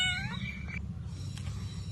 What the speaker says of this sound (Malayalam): ഇത് ഞങ്ങളുടെ പൂച്ചക്കുട്ടിയാണ് കേട്ടോ.